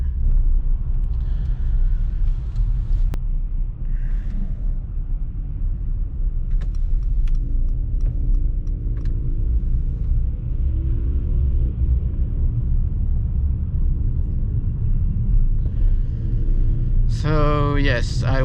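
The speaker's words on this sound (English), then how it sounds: "Oh, whoa, we have some traffic jam." Steady low rumble inside a vehicle crawling through a traffic jam in Japan, a continuous engine and road drone throughout, with a few brief higher sounds late on.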